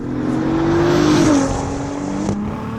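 A 700 hp turbocharged VR6 in an Audi TT accelerates hard, its engine note climbing steadily before a quick gear change drops the pitch and it pulls again, loud and close with no talking.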